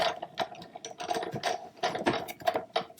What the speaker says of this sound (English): I'm just going to bring in the Big Shot here.